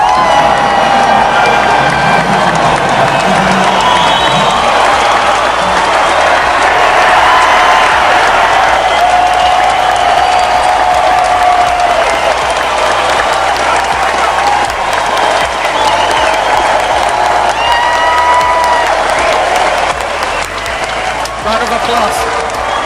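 Sustained crowd applause mixed with cheering and whoops, loud and steady for over twenty seconds with no pause, fading slightly near the end.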